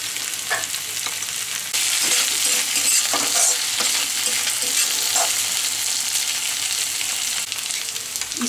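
Pieces of taro (arbi) fry and sizzle in a pan for a dry masala dish, a dense steady crackle close up with occasional stirring clinks and scrapes, no voices.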